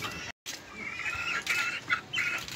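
Two-month-old chickens on a small backyard poultry farm cluck and cackle almost continuously, a busy close flock chorus with a brief dropout near the start and no talking.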